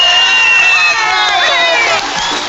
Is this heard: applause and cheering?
yes